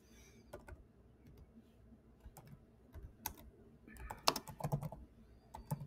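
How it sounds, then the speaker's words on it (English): Someone types on a computer keyboard at a command prompt, making quiet, uneven clusters of key clicks that grow busier and louder toward the end. "So I'll just type"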